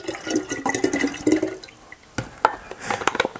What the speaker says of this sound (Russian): Вот это я все как следует вымешиваю, взбиваю